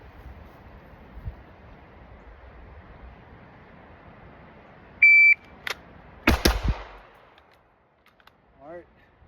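A shot timer beeps, then a pistol is drawn and fired twice in quick succession, two loud close reports with a short echo, followed by another faint beep.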